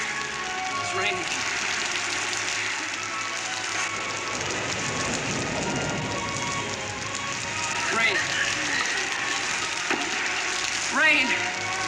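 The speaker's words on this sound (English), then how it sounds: "It's raining." Steady rain falls on a surface, a dense even patter that holds throughout with a few faint voices and movement sounds underneath.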